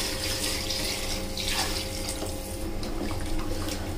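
Warm water poured steadily into fried mutton in a cooking pot for Afghani Kabuli pulao, a loud, continuous close-up gushing and splashing with no talk over it.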